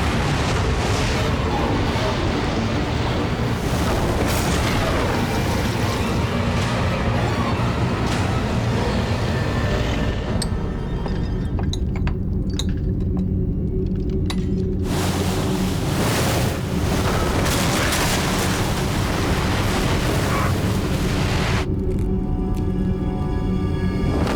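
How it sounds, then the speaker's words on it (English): A giant tsunami wave six meters high crashing into New York after an asteroid impact, a loud, unbroken roar of rushing surf with deep booming surges throughout and no voices. "A peripheral wave 6 meters high crashes into New York."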